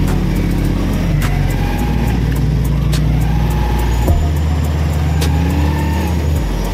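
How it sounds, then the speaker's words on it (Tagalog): A motorcycle engine strains and drones loudly in heavy traffic on an uphill road, continuous and close, with other vehicles rumbling around it. "yung makina mo talagang uuhong"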